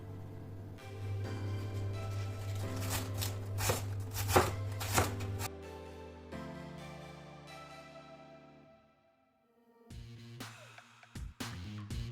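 A knife shreds vegetables on a board while probiotic kvass is being made, giving quick rhythmic chopping strikes close up, with a short pause before a few more cuts.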